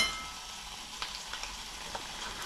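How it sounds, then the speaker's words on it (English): A couple of bacon rashers frying in a pan for a full English breakfast wrap, giving a steady, soft sizzle with a few faint pops and nobody speaking. "Put a couple of bacon in now."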